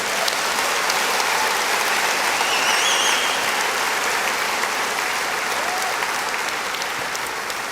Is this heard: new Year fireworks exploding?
no